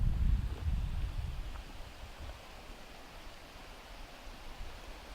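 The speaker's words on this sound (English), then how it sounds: "walking alongside the Limekiln Creek, which will lead us to the falls." Limekiln Creek at Big Sur rushes along beside a trail, a steady broadband wash of flowing water with a low rumble that fades slightly after the first second, no voices.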